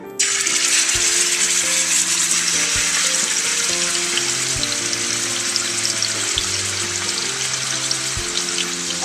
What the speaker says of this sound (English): I'm gonna put my roast in here and brown it on both sides